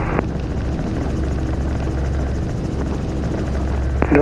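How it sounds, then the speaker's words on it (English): Helicopter departing from an airport ramp, a loud, steady rotor and turbine drone that holds for the whole clip with no talk. "Chopper 9 departs from the ramp."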